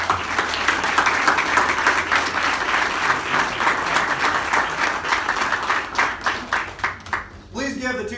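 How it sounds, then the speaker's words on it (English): An audience applauds principal and teacher of the year finalists at an awards announcement, loud sustained clapping that thins into scattered claps before a speaker's voice takes over. "Please give the 2019 Principal of the Year finalists another round of applause"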